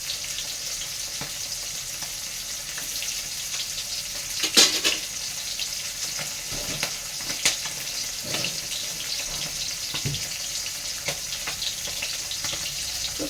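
Three whole green chillies fry in a little oil in a pan for fish curry, giving a steady, close sizzle with occasional sharper pops and crackles, and no voices.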